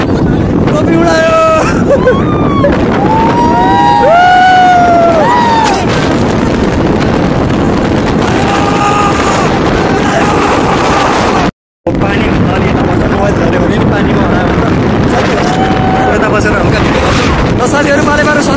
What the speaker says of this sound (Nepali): कस्तो पावर हावा आएको है